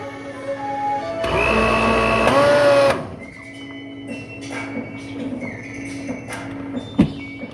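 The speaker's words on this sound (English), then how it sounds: "we had to transfer over to the food processor" A kitchen food processor whirring loudly for about two seconds while chopping an onion for spaghetti, a close, steady motor drone that cuts off abruptly, followed by quieter kitchen clinks and knocks.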